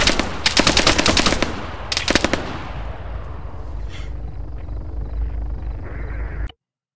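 Machine-gun fire in the military shooter ArmA 3, two loud rapid bursts of automatic gunfire close by, followed by fading echoes and quieter background battle noise before an abrupt cutoff.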